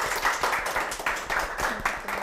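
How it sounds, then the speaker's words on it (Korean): Audience applause welcoming a lecturer onto a stage at a talk show lecture event, a moderate wash of clapping from a modest crowd with uneven pulses, heard briefly. "청산뉴스 문성우 작가님의 강연을 박수로 청해 보겠습니다."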